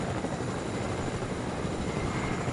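Steady, loud rotor whir from a helicopter flying in a PS4 video game, a dense continuous drone filling the short stretch without pause or speech.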